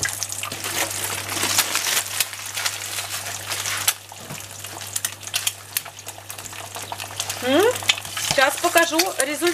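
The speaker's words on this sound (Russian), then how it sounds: "И теперь на этом же масле обжариваем яйцо." An egg fries in leftover oil in a pan, crackling and sizzling steadily up close, with bursts of spattering and a few clinks of a utensil, no talk.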